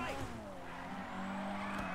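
A video game car's engine whines as tires squeal in a drawn-out skid in GTA V, with the motor pitch sliding and a voice faintly underneath.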